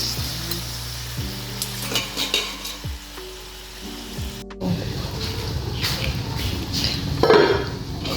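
Pork pata frying in a pan for estofado, a steady close sizzle with a few pan knocks early on, the frying growing louder and denser after a brief pause midway.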